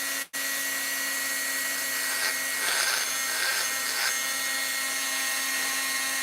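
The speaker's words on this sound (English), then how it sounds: "Can you guys even hear me over this Dremel tool at all?" A Dremel rotary tool grinds the cylinder port of a Stihl 026 chainsaw. The whine is loud and continuous with a steady pitch and only small changes in pressure, and it cuts out briefly near the start.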